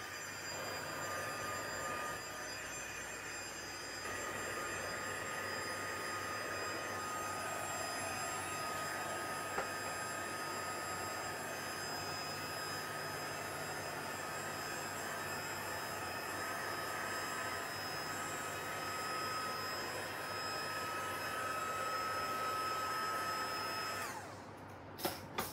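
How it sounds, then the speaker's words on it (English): A heat tool blows with a steady whining roar for about twenty-five seconds while drying turquoise ink on a scrapbook page, constant and close, then cuts off abruptly near the end. "let's get the heat tool and just try and dry some of this turquoise ink"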